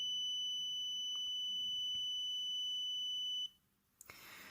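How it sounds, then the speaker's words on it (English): An Arduino project alarm emits a steady high electronic tone, faint and alone, with a couple of faint clicks. It cuts off suddenly, and a short burst of noise follows. "and an alarm turns on."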